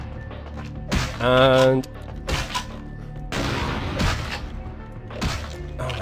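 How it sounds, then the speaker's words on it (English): Loud shotgun blasts in the video game Vampire the Masquerade: Bloodlines, several heavy booming shots spaced through the stretch amid game noise and a droning tone, with a person speaking briefly between them. "Shotgun. That shotgun is loud."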